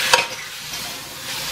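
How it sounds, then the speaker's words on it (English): Steady sizzling hiss of a chicken stir-fry frying in a pan, with a brief sharp clatter near the start, close and continuous, no talking. "You hear that nice sizzle, y'all?"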